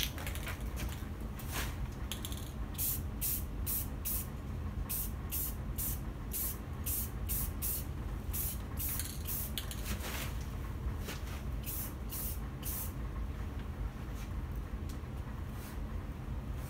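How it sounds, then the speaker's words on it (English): Paint is sprayed from a can onto a custom guitar headstock indoors, in short repeated hissing bursts with brief gaps between them, over a steady background hum from an exhaust fan. "spray some paint."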